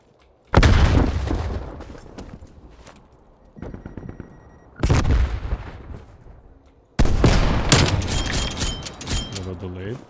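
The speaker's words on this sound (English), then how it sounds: "Throwing frag." Frag grenade blasts in a video game, three loud booming bursts amid rattling gunfire and explosions, each starting abruptly and then slowly trailing off.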